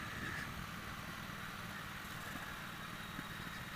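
A Triumph Speedmaster cruiser motorcycle engine-brakes downhill with a steady, low, faint drone and no other sounds or voices over it.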